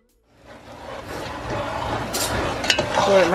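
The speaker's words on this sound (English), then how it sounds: "She's just going to stir this up really well and cook it down." Chopped mangoes cooking in spices are stirred in a pot, giving a close, busy scraping and sizzling that rises after a brief silence, with clinks of the utensil against the pan.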